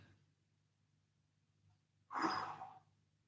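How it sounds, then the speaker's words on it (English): One long, deep exhale sweeps out as a breathy rush during a recovery workout stretch, alone after a quiet pause with faint background hum. "Big deep breaths"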